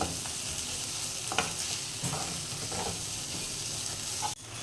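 Spices with Kashmiri chilli, cumin and coriander powder fry and are stirred in a pan for egg and prawn khichuri, a steady sizzle with scraping spoon strokes and a sharp clack near the end.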